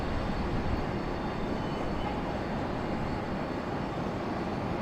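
A United airliner arriving from San Francisco touches down on the runway, a steady broadband roar of jet engines and rolling noise holding evenly throughout.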